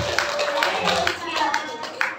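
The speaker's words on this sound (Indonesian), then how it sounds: "Tepuk tangan ya." Audience clapping at a lively Indonesian Islamic lecture, a scattered run of claps over about two seconds, moderately loud with the room's murmur and voices underneath.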